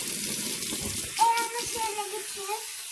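Water from a tap runs steadily and pours while a baby's hair is rinsed in a bath, a continuous close hiss, with a voice briefly heard partway through.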